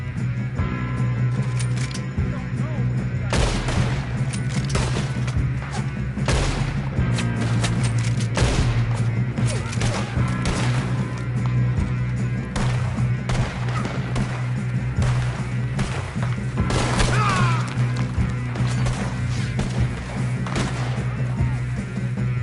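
Gunfire in Red Dead Redemption 2 crackles in repeated sharp bursts and scattered single shots through a shootout, loud over a steady background hum, with characters occasionally talking.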